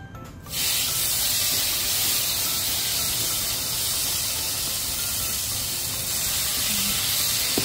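Beef frying in very hot oil, batch by batch, with a loud, steady close-up sizzling hiss that starts abruptly and holds for several seconds.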